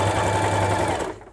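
Butterfly JH5832A sewing machine stitching back and forth at a lockstitch, a fast steady mechanical whir close by, running alone for about a second before winding down.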